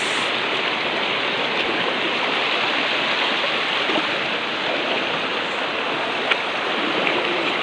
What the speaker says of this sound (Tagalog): Ang cute nung falls na mali. Tiny falls. Oh my God, so lakas.